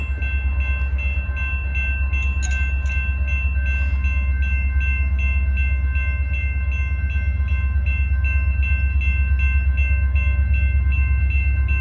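A CSX freight train rolls past near Plymouth with a heavy, continuous low rumble and steady tonal whine, loud and close, with faint rhythmic clatter running under it the whole time.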